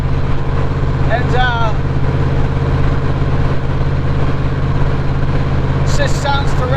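A Factory Five Racing Shelby Cobra replica engine rumbles steadily at a low, even idle throughout, with brief voices and chirping sounds rising over it near the start and end.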